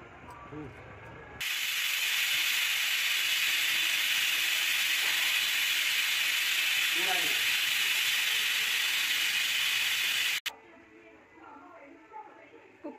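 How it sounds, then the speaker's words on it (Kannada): A pressure cooker on the stove vents steam while cooking village-style country chicken curry, a loud steady hiss with a high whistle that runs for about nine seconds, then cuts off abruptly into quiet kitchen sounds. "ಮುಚ್ಚಳ ಮುಚ್ಚಿ ಒಂದು 3 ವಿಜಲ್ ಕೂಗಿಸ್ತೀನಿ"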